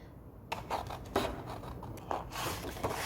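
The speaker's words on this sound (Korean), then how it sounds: "자, 그럼 지금부터 가위로 잘라보도록 하겠습니다." Scissors snipping through paper while cutting out clothespin toy shapes for a craft, with several close, crisp cuts and rustles after a quiet start.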